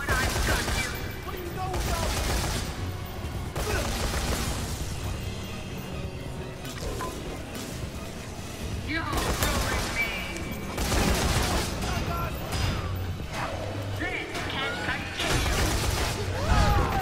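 Gunfire in the video game Dead Rising 3, loud bursts of rapid shots and explosive crashes recurring throughout over constant game noise, with a voice talking at times.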